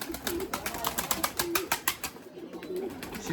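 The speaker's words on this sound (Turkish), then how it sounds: "Beyaz güvercin ordusunu bir çıkaralım arkadaşlar dışarı. Bir hava alsınlar." A flock of white pigeons being let outside coos softly in low, rolling phrases under a flurry of wingbeats and clattering movement, all at a moderate distance.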